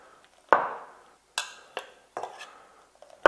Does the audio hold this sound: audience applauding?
no